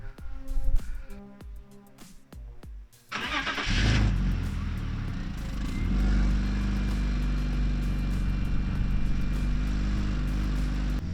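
A 2002 BMW 325xi with a misfiring engine cranks, fires and settles into an uneven idle, the loud close rumble pulsing irregularly after some clicks and clatter at the start.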